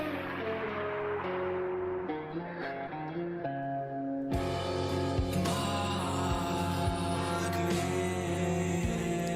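A song plays, with sustained tonal music that shifts into a fuller, louder section with steady beats about halfway through, with no talking over it.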